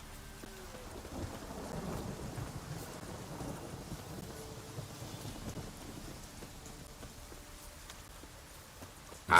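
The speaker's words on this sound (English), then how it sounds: "Storm, damn it." A rainy thunderstorm in the video game The Witcher 3: Wild Hunt, with steady, fairly soft rain and low rumbles throughout, plus a few faint hoof-like clops, ending in a brief sharp sound.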